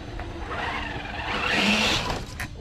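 A Traxxas TRX4 RC car brakes on a garden surface with its tires skidding. A rising engine whine gives way to a scraping skid, close and fairly loud, with no voice.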